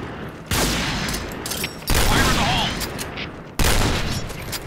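AK-47 gunfire in a video game: three loud, abrupt bursts of rapid automatic fire, each trailing off into echoing noise, spaced about one and a half seconds apart, close and dominant with no talk.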